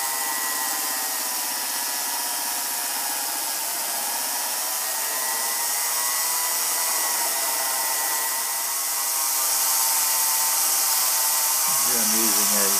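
A belt sander and lathe shaping end caps for a Z-1 battery for a Zenith Trans-Oceanic radio, heard as a steady loud whirring hum with a rising whine, continuous and close, shifting pitch slightly near the end.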